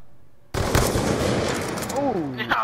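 Rapid bursts of sniper rifle fire in the video game Aftermath, loud and close, packed densely over a couple of seconds, with a voice chattering underneath.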